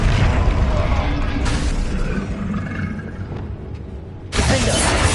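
A Confringo fire spell in Hogwarts Legacy lands as a booming, crackling blast, followed by a second loud burst near the end over continuous combat noise; a voice is faintly present.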